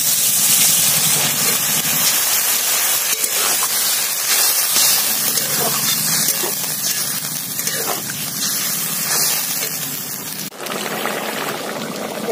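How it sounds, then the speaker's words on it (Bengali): Water poured into a pan of okra frying with spices, producing a steady loud sizzle and steamy hiss that continues evenly throughout, with a brief dip near the end. "এবার অল্প করে জল দিয়ে দেবো।"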